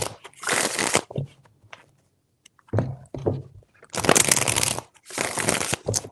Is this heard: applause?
no